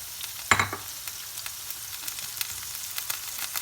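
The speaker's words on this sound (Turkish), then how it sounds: "Biraz da havuçlarıyla birlikte kavrulsun." Leeks and carrots sauté in a pan with a quiet steady sizzle, one sharp clatter of a utensil near the start, then faint stirring scrapes and crackles.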